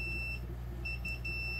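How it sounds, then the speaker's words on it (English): An Inkbird ITC-306A temperature controller sounding its low temperature alarm: thin, high electronic beeps repeating in short pulses, steady and fairly faint over a constant low hum. "Now you can hear the alarm going."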